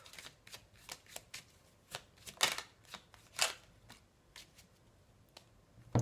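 Tarot cards shuffled and drawn by hand, a close run of crisp riffling snaps and flicks in an irregular rhythm, with a few louder slaps near the middle and end, and no talking.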